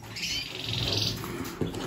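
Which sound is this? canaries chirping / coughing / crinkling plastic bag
canaries chirping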